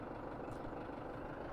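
A tractor engine idles steadily in the Farming Simulator 17 video game, a continuous low, even rumble with no talk.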